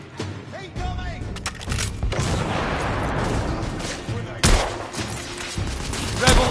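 In The Order: 1886, a frag grenade blasts amid dense rifle fire, with a thick, continuous barrage of gunshots and booms and a heavy thump partway through, under faint shouted voices.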